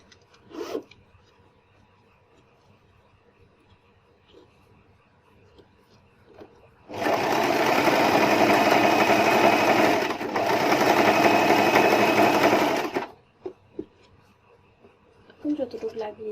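A sewing machine runs in two close, continuous bursts of about six seconds while stitching a zipper onto a cushion cover, with a short pause between them and quiet handling noises before and after.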